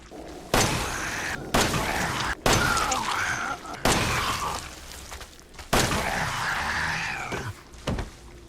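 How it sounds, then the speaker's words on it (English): Enhanced Glock 17 pistol shots in Resident Evil 7, six loud sharp reports at irregular one-second intervals, each followed by a ringing tail and brief impact noise, with no voices. "that took 5 shots from the enhanced Glock 17 to take down a molded"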